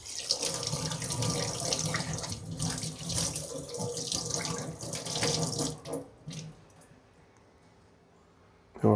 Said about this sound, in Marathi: आणि हे पाण्याने धुवून टाकायचं